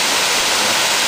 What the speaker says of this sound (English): That's a pretty waterfall.